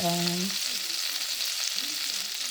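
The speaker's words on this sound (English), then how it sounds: "I'm gonna pan sear the salmon skin side down first" Salmon sears skin side down in a hot pan, a constant close hiss of frying oil that holds steady and fairly loud, with a brief tonal sound at the very start.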